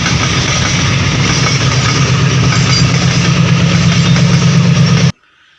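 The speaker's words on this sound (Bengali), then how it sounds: "এটা একটা গুডস ট্রেন" A goods train rumbles past close by on broad-gauge tracks near a railway tunnel at Chandranathpur, Silchar, loud and steady with a heavy low drone, then the sound cuts off abruptly near the end.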